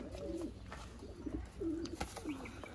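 Sialkoti rooftop pigeons give several close, soft coos in quick succession, each a short rolling call with brief gaps between them.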